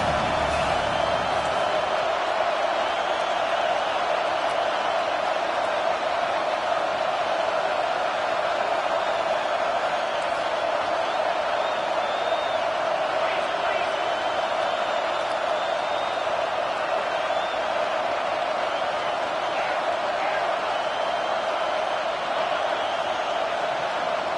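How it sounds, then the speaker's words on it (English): A football stadium crowd at a Florida vs. Wisconsin game roars in a steady, dense wash of cheering and noise, loud and continuous throughout with no distinct break. "They've got them pinned deep in their own end, and this crowd trying to help keep them there"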